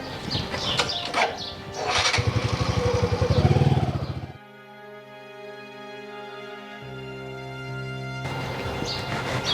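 A motorcycle passes on a road in a Haryanvi comedy drama, its engine loud and pulsing for about four seconds before it cuts off. Steady sustained tones follow.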